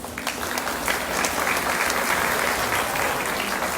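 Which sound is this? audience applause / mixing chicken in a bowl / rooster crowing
audience applause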